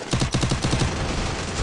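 Rapid automatic gunfire from a video game match, steady bursts of shots with fast repeating rhythm, loud and close, no talk over it.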